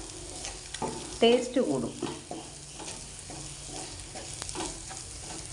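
Egg sautéed in a pan with garlic, green chilli, pepper, coriander, turmeric, garam masala, cumin and salt, sizzling softly while a spoon scrapes and stirs in a few bursts, with a brief spoken remark over the frying.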